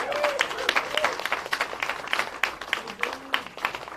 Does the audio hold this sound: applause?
yes